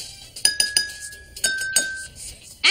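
A spoon tapping a drinking glass partly filled with water, a string of bright ringing clinks, some quick and some spaced out, with a sustained glassy tone that hangs between strikes.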